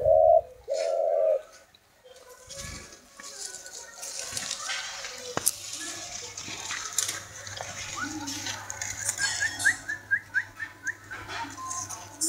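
Turtle doves kept as cage birds coo and call in a few short bursts near the start, followed by softer chirps and whistles from the birds against a low steady hum, with faint talk in the background.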